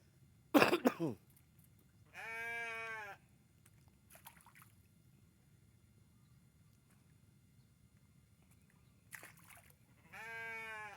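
Sheep bleat twice at a night fishing pond, each call a drawn-out wavering cry of about a second, with a brief cough-like sound before the first bleat and a quiet outdoor background.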